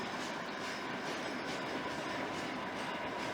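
A CSX freight train rolls steadily through a rail yard, its railcars producing a continuous, loud broadband rumble with faint clickety-clack from the wheels and no talk.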